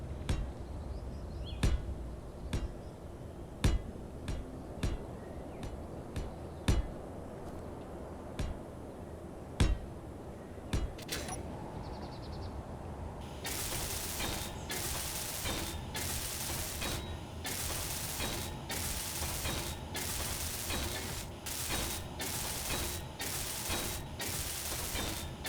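Welding tool in the space-building video game Space Engineers, a steady loud broadband hiss pulsing in repeated bursts that starts midway after a run of sharp isolated clicks and knocks.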